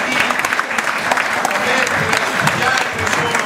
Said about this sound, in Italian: facciamo un applauso a chi